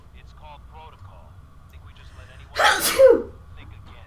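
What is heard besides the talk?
sneeze in the video game Fallout 4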